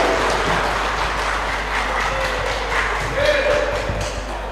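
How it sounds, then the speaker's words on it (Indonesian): Audience at an anniversary ceremony for an Indonesian educators' association applauding, a steady moderate patter of clapping over a constant low hum, with a brief tonal ping partway through. "Tepuk tangan Bapak Ibu."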